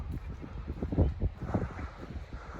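Wind buffets the microphone in low rumbling gusts at the Bukovel ski resort, uneven and close, with no clear speech.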